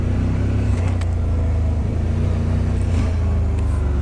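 A car driving along produces a loud, close, steady low engine rumble with slight variations in revs, heard alone for a few seconds.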